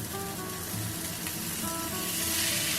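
Chuck steak sears loudly in a hot cast iron pan, a dense, steady sizzle with crackling spits that holds unbroken and swells slightly toward the end.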